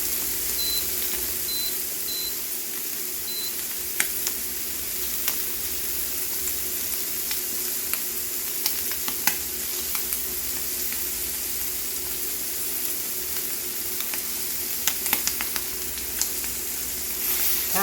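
Stuffed pork medallions with feta sizzle and fry steadily in a hot pan, a constant close crackle with occasional sharper pops and a few faint electronic beeps near the start.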